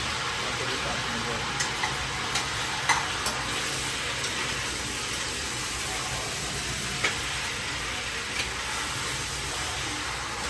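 Stew beef and ribs cook in a pot with a steady close sizzle and hiss of frying, with a few light clicks and faint talk underneath.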